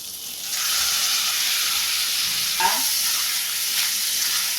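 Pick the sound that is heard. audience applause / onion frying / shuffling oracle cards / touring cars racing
onion frying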